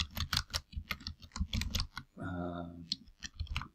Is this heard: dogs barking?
no